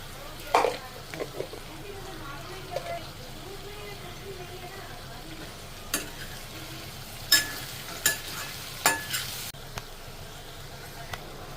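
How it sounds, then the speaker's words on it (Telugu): Vegetable pieces fry softly in a pan for Telugu dal soup, a faint sizzle with scattered scraping stirs and taps of a spoon, quiet and close. "ముక్కలన్నీ వేసి ఇలా బాగా వేగింది కదా"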